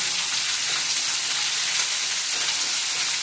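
Onion paste frying in a pan after ginger-garlic paste, a loud, dense, continuous sizzle close up that holds steady for the whole stretch with no pauses.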